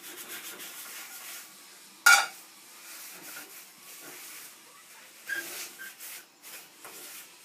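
A seasoned cast iron pan is scrubbed with salt and a little oil to lift stuck scrambled egg, giving a soft, steady gritty rubbing with a couple of sharper, louder scrapes.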